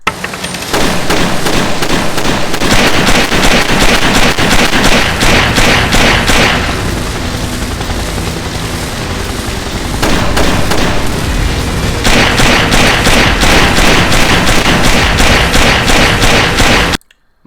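Loud, dense gunfire in the Splinter Cell video game plays as continuous rapid bursts with booming impacts, briefly thinning midway before resuming hard and cutting off abruptly.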